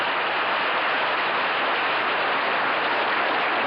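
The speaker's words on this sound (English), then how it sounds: "Well, they're applauding your efforts" Studio audience at a 1970s television quiz show clapping, a continuous even roar of many hands with no breaks, fairly loud and close, with no voices over it.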